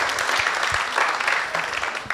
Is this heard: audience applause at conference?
yes